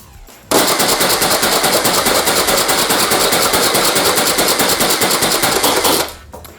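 A Lehui M1917 Maxim foam dart blaster fires full auto in one continuous, loud, rapid mechanical rattle of evenly spaced shots lasting about five and a half seconds, then stops.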